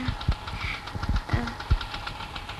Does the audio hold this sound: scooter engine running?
yes